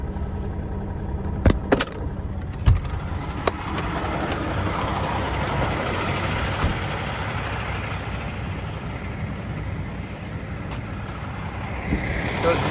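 A truck engine runs steadily at idle in an open yard, a constant low rumble throughout with a few sharp clanks and knocks on top, and faint voices in the background.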